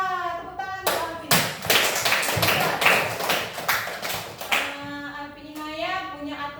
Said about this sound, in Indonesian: tepuk tangan untuk Alfi